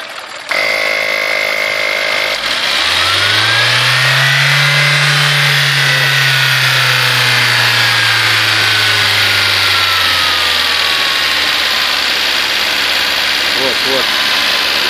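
A car engine runs during an injector cleaning done without removing the injectors. It revs up within the first few seconds and then holds a steady, loud drone at around 2000 rpm, easing slightly lower toward the end.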